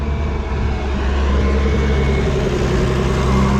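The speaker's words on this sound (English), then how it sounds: "who wants to see the tractor coming up a hill" A Massey Ferguson 1200 tractor labours up a hill towing a trailer, its engine a loud, steady low drone held close throughout without talk.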